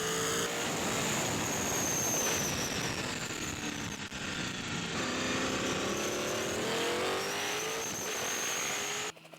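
A Lola T430 Formula 5000 race car with a 5-litre stock-block fuel-injected V8 screams steadily at high revs during an F5000 race at Hampton Downs, loud and continuous with shifting engine pitch throughout.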